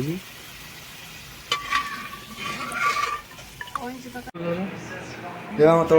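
Egg tadka frying in a pan and being stirred, a steady sizzle with scraping strokes, while people talk nearby.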